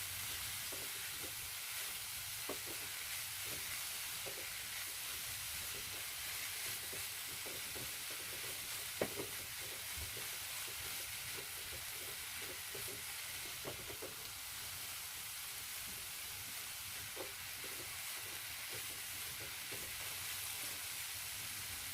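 Jicama filling stir-fried briefly in a pan, a steady broadband sizzle running throughout with scattered faint clicks and scrapes of stirring, close and continuous with no talking.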